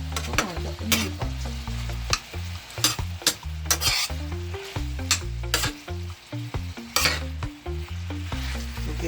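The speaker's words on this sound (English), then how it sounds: "I'm gonna make a last stir." Escovitch sauce is stirred in a pot on the stove in a Jamaican kitchen, with repeated scraping strokes over a low sizzle and a rhythmic series of knocks against the pot, close and alone.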